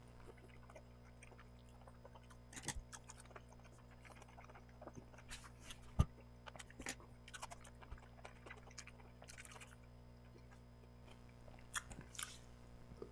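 Someone chews a piece of tough meat fat at length. Faint, wet clicks and squishes come in an irregular rhythm, close but very quiet, with no talking.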